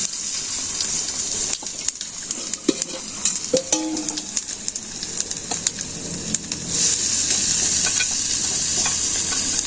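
Onions with cumin and radhuni seeds sizzle and crackle in a pan during village cooking, a steady close frying hiss with scattered pops and stirring scrapes that swells louder near the end.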